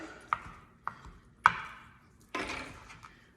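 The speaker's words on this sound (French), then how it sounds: "C'est un restant de bocconcini. Voilà. Encore là, je vais couper ça un petit peu." A knife cuts leftover bocconcini cheese on a board, four distinct chops spaced unevenly, close and moderately quiet with no talking.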